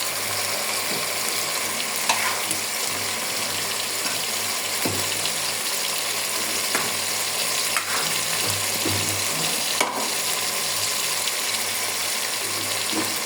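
Pulao with ginger paste fries in a pan with a steady, soft sizzle and a few faint stirring scrapes, moderately close and without talking.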